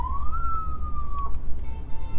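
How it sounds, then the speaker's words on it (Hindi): A car siren on a Toyota Revo in Karachi gives a short electronic wail that rises and then slides slowly downward, loud and close over a low engine rumble. "ये सायरन भाई कराची में बहुत ज़रूरी है"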